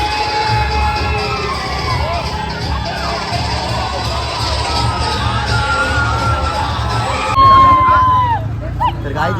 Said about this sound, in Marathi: जल्लोष बघा या पोरांचा